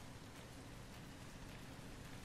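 Rain falls in the video game Resident Evil Revelations 2 as a faint, steady hiss of even drops, heard alone without speech.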